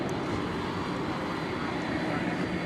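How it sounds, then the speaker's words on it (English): An Airbus A350-1000 jet at DFW Airport on a Saturday night produces a broad, steady engine roar at moderate distance, continuous and unchanging throughout, with faint voices in the background. "A350-1000. Flight 730 to Doha. That is the first out of the gate here."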